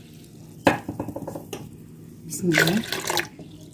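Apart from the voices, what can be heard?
water poured into a blender jug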